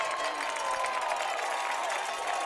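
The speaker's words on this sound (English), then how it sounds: "The JCS crowd trying to get behind their defense." A steady roar from a high school football crowd at a Jackson Christian home game against USJ, cheering on the defense, a broad continuous wash of voices with no distinct breaks.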